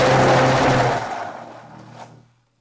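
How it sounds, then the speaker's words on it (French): A blender whirs loudly as it mixes mashed potatoes with milk, then winds down and stops after about two seconds, with a light clink near the end. "Puis, vous ajoutez le reste du lait pour aider à mixer."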